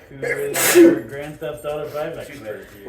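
A single sharp sneeze bursts out early amid a casual podcast conversation among gamers, with people talking before and after it.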